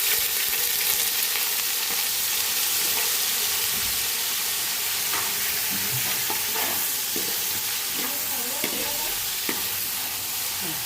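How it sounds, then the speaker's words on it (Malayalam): Coconut pieces fry in a pan for payasam, making a continuous close hiss and crackle with light stirring clicks and scrapes throughout. "പിന്നെ ഞങ്ങളിതിലേക്ക് തേങ്ങാക്കൊത്ത് വറുക്കാൻ പോകുന്നു"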